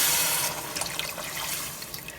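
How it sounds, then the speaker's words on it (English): Water is poured into a pot of pea soup in a kitchen, a steady splashing, gurgling stream lasting about two seconds with no speech. "go ahead and add some water."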